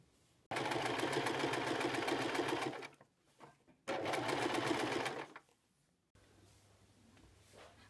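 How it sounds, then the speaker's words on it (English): A sewing machine stitches old dress fabric into a floor mat, running in two fast, even bursts of rapid chatter with a pause between, close and loud, then going quiet into a low hum. "So our next step is to sew it around."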